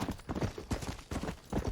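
Horse hooves clip-clopping in Red Dead Redemption, a steady run of close, fairly loud beats in an uneven galloping rhythm with no voices.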